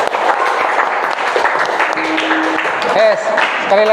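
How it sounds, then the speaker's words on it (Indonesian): Group clapping in a classroom lesson goes on steadily for several seconds, mixed with voices, and a tonal sound rises briefly near the end. "Ya, tepuk tangan dulu."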